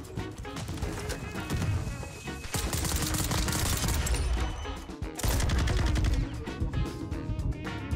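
Rapid bursts of automatic gunfire in Call of Duty MW2 overlap in dense, loud volleys, with a short gap midway before the shooting resumes heavier; no talking.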